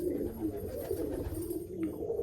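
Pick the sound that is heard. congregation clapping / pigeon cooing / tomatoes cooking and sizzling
pigeon cooing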